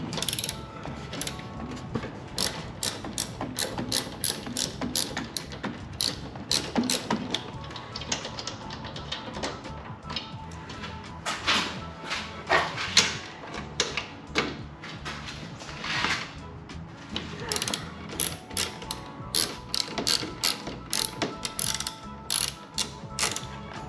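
A hand ratchet clicks in quick bursts while loosening 14mm bolts on a BMW B58 engine during a spark plug job, close and crisp, with pauses between runs of rapid pawl clicks.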